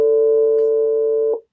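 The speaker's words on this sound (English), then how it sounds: "two beeps, two pure sine waves." A pure sine-wave tone in a sampling demonstration holds steady and loud for over a second, then cuts off abruptly into silence; the two pitches blend into one continuous sound rather than separate beeps.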